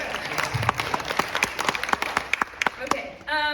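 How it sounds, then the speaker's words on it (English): Moderate applause from a small audience at a candidate forum, scattered distinct claps over a few seconds before a voice begins speaking. "give her a round of applause too."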